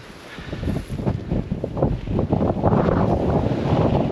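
Strong wind on Dartmoor near Princetown buffets the microphone in loud, continuous rumbling gusts that swell and rise toward the end.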